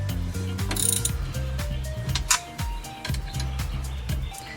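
A ratchet clicks in quick repeated bursts, tightening engine nuts on a chrome engine being installed in a 1971 VW Karmann Ghia, close and crisp, with metallic ticking and short pauses between strokes.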